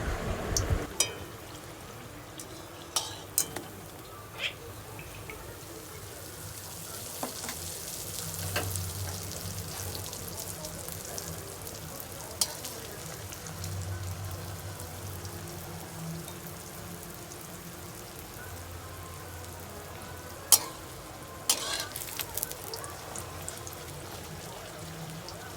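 Palm fruit fritters (taler bora) frying in hot oil, a continuous soft sizzle and crackle with occasional clinks and stirring sounds, heard quietly and close, with little talk.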